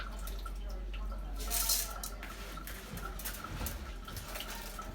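Water drips and trickles as it drains from boiled rice for homemade sushi, with small splashes and a brief gush midway, close and moderately quiet against a low background hum.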